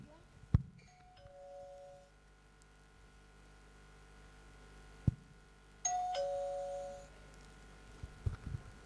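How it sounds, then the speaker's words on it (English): A timing bell is rung as a test at a Socrates inter-university debate competition: two separate bright ding-dong chimes, each holding about a second, with scattered sharp knocks and thumps between them in a quiet room. "What is the bell that you will be ringing, please, so that they get used to the sound of the bell?"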